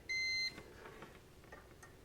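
A continuity tester gives a single short, steady electronic beep at the start, clear and close, followed by quiet room noise.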